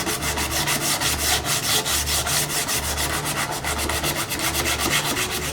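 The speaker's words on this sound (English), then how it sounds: "So here, call it coarse sanding." Coarse sandpaper rubbing back and forth on a wooden snow snake in a steady, rhythmic scrape, loud and close, with regular strokes throughout.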